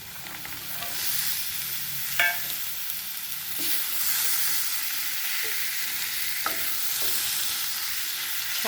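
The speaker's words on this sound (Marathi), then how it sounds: "छानपैकी आता हा वाटाणा पूर्णपणे आपल्याला ह्या मसाल्यामध्ये परतून घ्यायचा आहे" Green peas, roasted beforehand, are sautéed in an oily masala for aloo mutter bhaji: a steady bright sizzle runs throughout, broken by several sharp spoon scrapes against the pan, with no voices.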